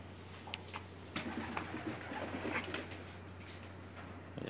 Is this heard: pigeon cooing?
yes